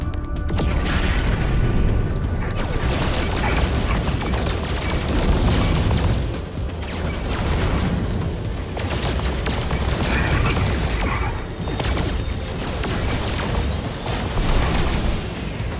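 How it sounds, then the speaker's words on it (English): Space pirates firing on a ship in No Man's Sky, a dense, loud barrage of booming laser blasts and rumbling impacts that runs almost continuously, with brief dips between volleys. "Space pirates are still shooting at me though."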